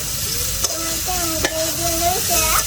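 Potatoes fry and jump in a hot wok, giving a loud, dense sizzle with a few sharp pops, while a wavering high whistling tone rises and falls above it.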